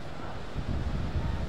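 Wind buffeting the microphone on the Indian Ocean shore in Tanzania, a steady low rumble with surf washing underneath, constant and close.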